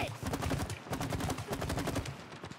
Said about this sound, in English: There's too many of them! Don't stop shooting!